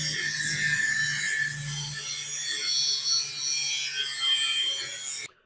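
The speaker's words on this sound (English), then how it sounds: "I'm so glad I decided to use a cutoff wheel instead of trying to grind that out of there" A cutoff wheel cuts out a square in steel for a trailer-mounted receiver hitch, giving a continuous high-pitched abrasive whine and rasp that holds steady for about five seconds before stopping abruptly.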